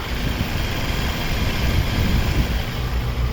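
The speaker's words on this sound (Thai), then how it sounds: "เครื่องยนต์เดินเรียบมากๆเลยนะครับ" A 2007 Toyota Corolla Altis 1.6 G VVT-i engine idling, a smooth, steady low rumble with a broad hiss and slight wind buffeting, continuous throughout.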